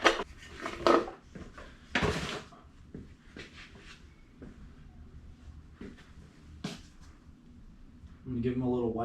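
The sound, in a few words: pan of bolts being handled during Subaru engine rebuild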